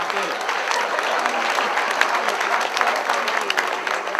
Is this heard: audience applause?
yes